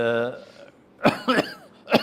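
After a brief trailing voice, a few harsh, abrupt coughs break out close by, spaced unevenly over a couple of seconds.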